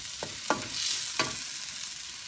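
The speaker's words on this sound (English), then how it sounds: "Cook the garlic." Garlic frying in a pan for perch sarciado, a steady soft sizzle with a few sharp stirring scrapes near the start, close and alone.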